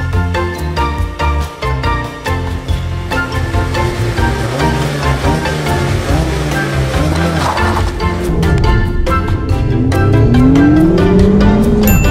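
A 2019 Mazda Miata sports car accelerates hard toward a 7,500 RPM redline, the engine note climbing through gears with brief shift breaks, loud and close, ending in a rising whine with some tire noise.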